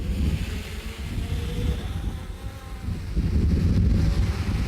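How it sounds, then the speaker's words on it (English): A camera drone lifts off nearby, its propellers giving a steady low buzzing drone that swells louder toward the end, mixed with wind rumble and no talking. "if that works right, then I say lifting off, and I'm going to lift off"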